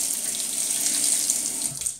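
Water runs steadily from a bathroom sink tap while a double-edge razor is rinsed of soap and hair, a close, continuous splashing hiss lasting two seconds with no talking.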